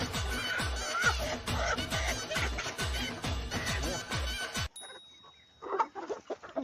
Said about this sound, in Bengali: এই যে দেখো বন্ধুরা কত মুরগি